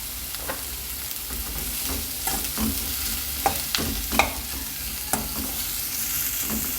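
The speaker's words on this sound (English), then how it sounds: "and saute the onion" Onion sautéing with salt in a hot pan, a steady sizzle broken by repeated scraping stirs of a spoon against the metal, close and continuous with no talking.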